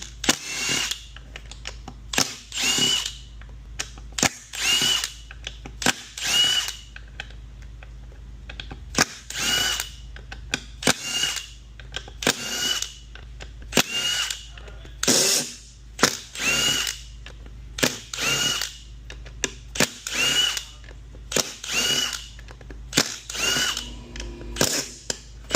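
A power tool with a fresh socket works a fastener on a 2018 Chevrolet Traverse 9T60 transmission job, giving repeated short whirring and ratcheting bursts separated by brief pauses, close and fairly loud.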